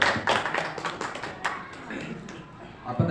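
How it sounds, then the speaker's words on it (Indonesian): An audience claps in applause, a short burst of scattered, close hand claps that thins out toward the end. "tepuk tangan untuk"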